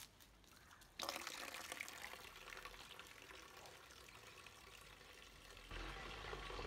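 Water poured out for waiting ducks to drink: a steady, fairly close splashing rush that starts after about a second and continues with a brief surge near the end, with no talk over it.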